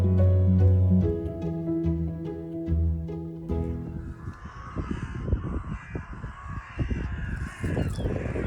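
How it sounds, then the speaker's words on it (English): Crows caw loudly and repeatedly at sunset in spring around Ryde, first in strong separate calls and then a dense, busy chorus of many birds. "So the birds get very excited about the prospect of sunset."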